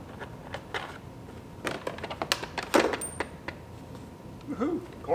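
A loose quarter rattles and clinks inside a 2017 GMC Terrain Denali console as the cover is pulled off, with scattered plastic clicks and knocks, close and fairly quiet.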